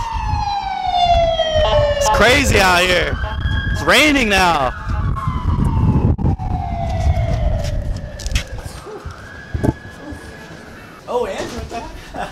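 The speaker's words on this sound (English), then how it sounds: "Got ambulance." An ambulance siren wails loudly and up close in a rainy street, its long falling tones and warbling sweeps dominating the scene while someone talks over it; the siren then fades as he keeps speaking.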